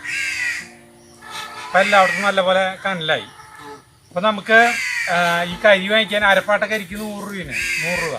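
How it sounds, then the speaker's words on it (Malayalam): Crows caw near a house where fish is being grilled over charcoal, their calls partly buried beneath steady close conversation. "വീടിൻ്റെ ഇവിടെ ഇരുന്നിട്ട് കാക്കര ശബ്ദം"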